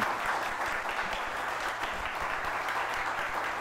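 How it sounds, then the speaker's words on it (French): Audience at an event launching an environmental CO2 program and label applauds testimonials with continuous, fairly soft clapping that holds steady from start to finish, heard without talk. "Je pense qu'on peut les applaudir pour vos témoignages."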